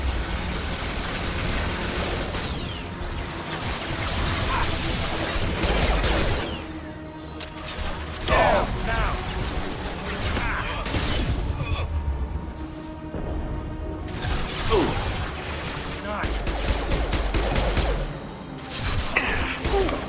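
Gunfire and combat effects in the video game Mass Effect 2, dense bursts of shots, whooshes and crashes layered over a game soundtrack, fairly busy and continuous with no speech.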